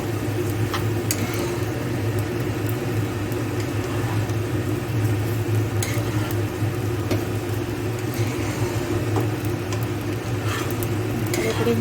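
Basanti pulao ingredients stirred and frying in a pan, a steady close sizzle with a low hum running underneath for the whole stretch and occasional soft scrapes.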